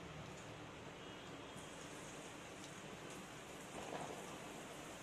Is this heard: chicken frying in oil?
yes